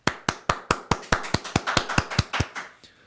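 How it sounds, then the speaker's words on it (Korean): A single person claps about thirteen times in a steady rhythm, each clap a sharp, close slap, after the announcement that Kim Kyung-ji became the unified Democratic Party candidate for Busan Geumjeong district head. "박수."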